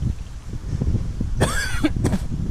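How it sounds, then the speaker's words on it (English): A single harsh cough bursts out close to the mic, followed by a second shorter cough, over breezy, rumbling outdoor background noise. "I'm developing a cough."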